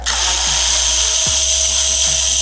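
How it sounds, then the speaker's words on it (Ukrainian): A YATO YT-82760 cordless screwdriver drives a screw, its motor whirring steadily and loudly through the whole stretch with a brief dip partway through, with no talk. "Викрутка справляється на ура."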